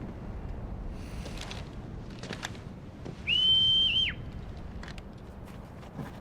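A single sharp, high whistle blown in Final Fantasy XVI, a clear sustained tone of under a second rising out of quiet wind-like ambience and faint game sounds.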